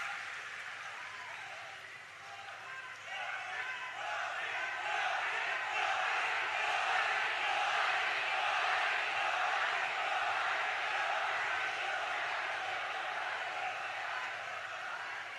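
A large crowd at a Rajasthan election rally applauds and cheers to welcome the prime minister, a dense, sustained roar of clapping and voices that holds steady throughout at a fairly loud level.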